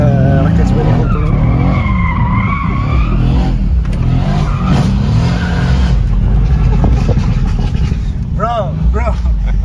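A Mercedes C63s AMG with a V8 biturbo engine roars loudly and steadily while its tires skid and squeal in rising and falling wails, with voices talking over the engine.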